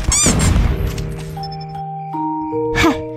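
A short burst of rapid gunfire in a first-person shooter video game, crackling quickly at the start, followed by sustained electronic chime tones and a brief vocal sound.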